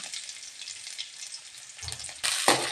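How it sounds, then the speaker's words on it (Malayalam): Mustard seeds, green chilies and curry leaves frying in hot oil for a papaya masala curry, a steady close sizzle that flares into a louder crackling burst as the ingredients go in. "1/4 ടീസ്പൂൺ കടുക് ഇട്ട് പച്ചമുളക് ഇതിനകത്ത് ഇടുക. അതിനകത്ത് കറിവേപ്പില,"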